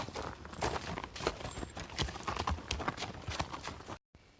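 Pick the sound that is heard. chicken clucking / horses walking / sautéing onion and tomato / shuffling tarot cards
horses walking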